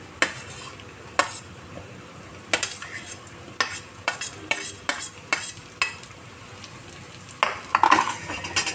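Green chillies being stir-fried for a prawn dish, with sharp, irregular scrapes of a utensil against the pan over a low, steady sizzle, fairly close and with no talking.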